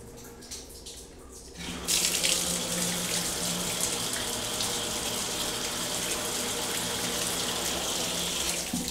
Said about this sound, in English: Let's see the tub water pressure.